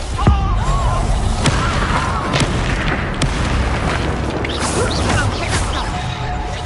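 Spell explosions burst repeatedly in a Hogwarts Legacy wizard duel, with loud booms, crashes and whooshing magical effects over a dense, continuous game soundscape.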